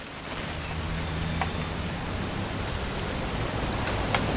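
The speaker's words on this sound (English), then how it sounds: "It's gonna rain the whole weekend," Rain falling in What Remains of Edith Finch, a steady even hiss of drops on surfaces with a few faint sharper ticks, continuous and moderately quiet with no talking.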